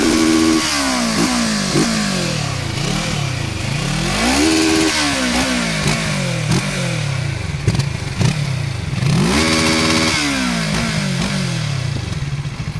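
A Kawasaki Z650 motorcycle engine revs up and down repeatedly, rising and falling in pitch through gear changes, loud and close with a rough growl.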